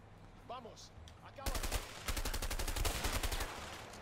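Gunfire in the video game A Way Out: a rapid, loud string of shots that rings out for several seconds, following a brief stretch of talk at the start.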